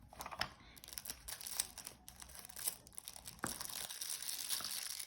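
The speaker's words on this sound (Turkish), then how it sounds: "Şimdi diğer paketini açıyorum." Plastic packaging of a Beyblade Metal Fusion spinning top toy being torn open, with quiet crinkling and crackling, sharp snaps and rustles in irregular bursts, close up and faint.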